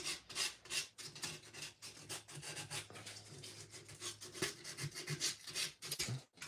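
Steady back-and-forth rasping of light sanding on wood, a continuous scratchy texture with rhythmic strokes, close up and moderately loud, no voices.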